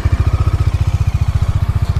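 A 2022 Modenas Dominar 400 single-cylinder motorcycle running close to the microphone, giving a loud, even, rapid low thumping pulse with a steady rhythm and no voices over it.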